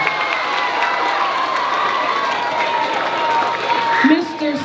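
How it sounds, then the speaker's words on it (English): An audience at a middle school Black History program applauds and cheers for staff, a steady roar of clapping mixed with crowd noise and shouting voices that holds level across the whole span. "Let's give them a round of applause."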